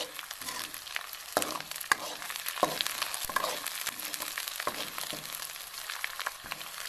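Phodni, the tempering for a bathua greens dish, sizzles steadily in hot oil, with a bright, continuous fry and scattered sharp pops and crackles close by. No one speaks.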